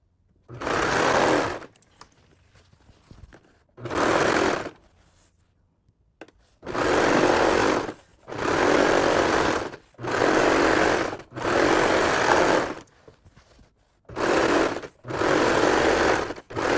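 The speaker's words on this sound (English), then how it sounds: "the top edge, and I am going to serge them" A serger sewing machine finishes the fabric edges of a mini shopping bag, running in loud, close bursts of rapid mechanical whirring lasting one to two seconds each, separated by short quiet gaps.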